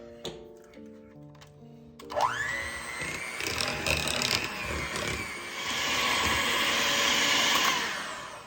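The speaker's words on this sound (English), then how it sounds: "I'm going to get out the mixer just because it'll be easier to mix." An electric hand mixer whirs to life and beats zucchini cake batter in a bowl, a loud close motor whine with clicking and scraping as the beaters work, no voices.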